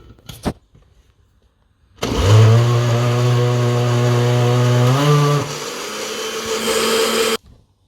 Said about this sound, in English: I'm going to put it in my blender and grind it